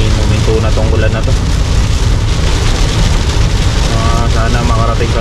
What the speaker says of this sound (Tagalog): Sana naman uminto na tong ulan na to.